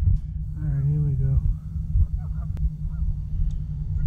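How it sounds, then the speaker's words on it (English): Geese by the water honking in a loud drawn-out series of nasal calls, followed by a few fainter honks, with low outdoor rumble underneath. "Getting laughed at by these birds already."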